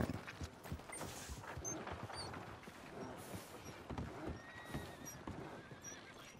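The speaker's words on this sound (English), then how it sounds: "Is that horse doing all right?" A horse in a western video game whinnies and clip-clops along, its hooves thudding in a steady walking rhythm with creaking tack under faint ambient game noise.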